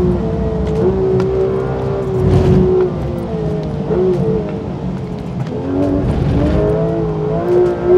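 Porsche GT3 RS accelerating hard on a race circuit, a loud close engine roar rising and falling through gear changes, with a steady harmonic drone throughout.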